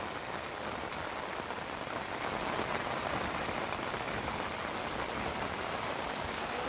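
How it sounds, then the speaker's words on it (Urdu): Heavy, dangerous downpour in Dadyal, Azad Kashmir, a dense, steady roar of rain drumming on surfaces with constant loud hiss and no pauses, close and enveloping throughout. "شدید ترین خطرناک قسم کی بارش"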